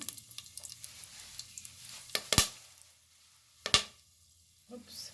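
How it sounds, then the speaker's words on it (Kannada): Cinnamon, cloves and stone flower hitting hot oil in a pan for beetroot cabbage rice, giving a soft steady sizzle with a few sharp clattering drops as the spices go in. "ಓಕೆ ಗೈಸ್, ಎಣ್ಣೆ ಬಿಸಿಯಾಗಿದೆ. ಚಕ್ಕೆ, ಲವಂಗ, ಪತ್ತರ್ಕೆ ಫೂಲ್, ಪಾಚಿಕಲ್ಲು ಅಂತಾರಲ್ಲ, ಅದು 3 ಹಾಕ್ತಾಯಿದ್ದೀನಿ."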